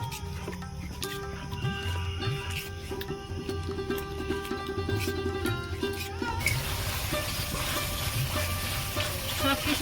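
Egg biryani gravy with yogurt sizzles in oil while a spoon scrapes and stirs it with rhythmic knocks against the pan, and the frying grows into a denser, steady hiss toward the end.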